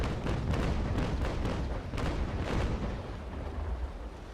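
Frigate cannons firing in Naval Action Legends, a broadside of rapid, overlapping booms rolling through the whole stretch with a heavy, continuous low rumble and no pauses.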